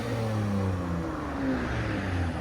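A 2014 Honda Accord Coupe 3.5L V6 with a muffler delete exhaust rumbles with a deep, throaty, steady drone, loud and close, with slight rising and falling engine pitch and no talking.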